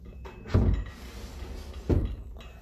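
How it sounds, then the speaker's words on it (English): A concealed wooden drawer in an antique dining room set is worked twice, with two soft knocks and a slide of wood heard close by in a quiet room, and no one talking. "you can see that it's definitely a working drawer"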